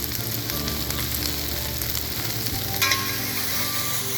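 Onions sautéing in a pot with salt and black pepper, a steady close sizzle and crackle of frying that holds even throughout, with a brief stir or scrape near the end.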